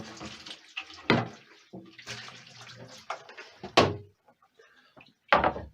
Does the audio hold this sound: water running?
yes